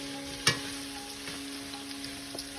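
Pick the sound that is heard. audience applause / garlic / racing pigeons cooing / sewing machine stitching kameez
garlic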